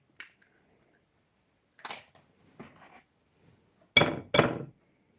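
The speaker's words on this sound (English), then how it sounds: "just while I crack the eggs and put them in there" Eggs cracked one after another into a bowl for cake batter: a few light shell taps early on, then two sharp, close cracks near the end, with quiet gaps between.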